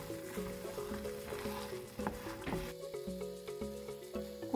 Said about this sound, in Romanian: Duc focul la mic și încep să amestec.